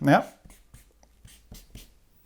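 A pen scratches in short, separated strokes during a talk about sleep and diet, with a brief voice at the start and then quiet, rhythmic scribbling.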